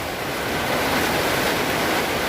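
Heavy rain driven by strong wind roars without letup in a broadband wash of hiss and rumble during a storm in Selatpanjang, Indonesia, with no voices over it.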